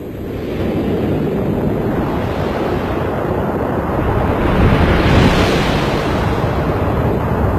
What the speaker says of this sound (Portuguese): a primeira coisa que elas encontraram foi o choque em arco do planeta gigante, que produz um som como o vento nos dados eletrônicos